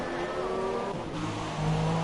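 A race car engine in an F2 championship racing game at Hungary, entering the pits: a loud, close, steady engine drone with a brief dip, then a rising rev near the end, with no voices.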